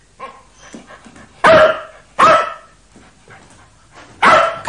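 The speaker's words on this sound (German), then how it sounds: "Knuddel bellte natürlich freudig, als er den Polizisten sah" A dog barks happily on seeing a police officer: three loud, sharp barks spaced about a second apart, close by, with softer whimpering yips between them.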